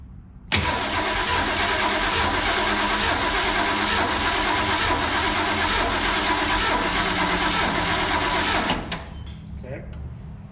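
A Ford 289 V8, newly swapped in place of a six-cylinder, cranks and runs on its first start, giving a loud, steady mechanical roar for about eight seconds before cutting off abruptly into near quiet.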